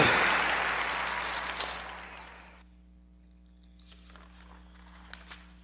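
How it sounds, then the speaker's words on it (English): A round of applause on a podcast swells as a wash of clapping at the start, then fades over a couple of seconds into near silence with a low hum. "Join me in giving our sister Bernadette Fobbs and April Showers a Warm Narrative podcast round of applause."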